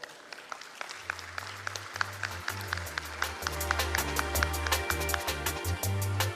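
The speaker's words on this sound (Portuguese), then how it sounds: "Uma salva de palmas." A conference audience at a road-safety debate gives a round of applause, starting sparse and swelling into dense, sustained clapping, with a low hum underneath.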